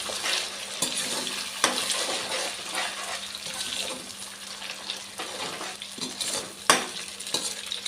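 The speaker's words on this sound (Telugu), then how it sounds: "ఇప్పుడు ఎగ్ అంతా పచ్చి స్మెల్ అంతా పోయే వరకు బాగా నీట్గా అది రోస్ట్ చేద్దాం." Egg frying and being stirred in a pan for chicken fried rice, a soft continuous sizzle broken by occasional spatula scrapes and clacks, with no one talking.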